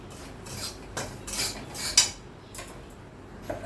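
Sugar is stirred into semolina roasted to a reddish colour in a pan, giving a few close metal spoon scrapes and clinks against the pan in short bursts with quiet gaps.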